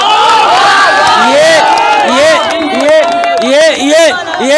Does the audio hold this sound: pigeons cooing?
no